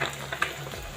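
Fish frying in a pan in a home kitchen, a steady soft sizzle with a brief stir or clatter partway through, close and fairly quiet.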